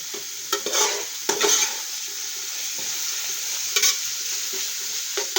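Onions fry in a pan for a spiced rabbit roast, Kerala style, with a steady sizzle and several short scraping stirs of a spoon against the pan.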